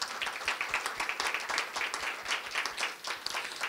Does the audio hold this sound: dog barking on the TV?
no